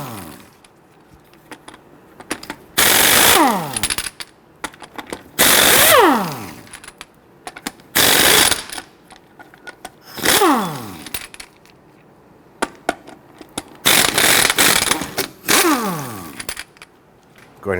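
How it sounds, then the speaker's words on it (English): A 19mm socket loosens and spins off the rear wheel lug nuts on a 2006-2010 Hummer H3. Five or six loud, close bursts of harsh mechanical rattling, each lasting about a second and winding down, are separated by quieter pauses. "using a 19mm socket, I want to go ahead and loosen and remove your lug nuts"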